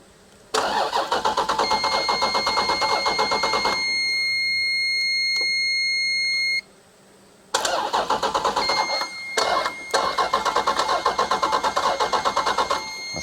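A Dodge SRT car engine cranking repeatedly on the starter without catching, rapid rhythmic churning in two long bursts separated by a pause with a steady warning chime, loud and close.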